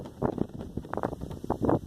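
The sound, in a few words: strong wind gusts blowing into the microphone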